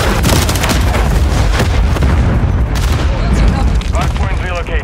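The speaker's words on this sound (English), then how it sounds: "Throwing grenade!" A grenade going off in Call of Duty Modern Warfare 3 multiplayer, a loud booming blast amid continuous gunfire and explosions, with in-game voices calling out over the dense combat noise.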